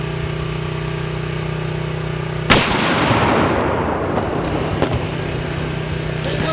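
A single sharp sniper rifle gunshot cracks loudly at close range during outdoor slow-motion testing, followed by a long rolling echo that fades over a steady engine idle in the background.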